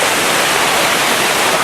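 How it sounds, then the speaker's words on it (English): Waterfall at Crummock Water in the Lake District, a loud, steady, dense roar of rushing water heard up close and unbroken, with no voices. "coming from the force of the waterfall"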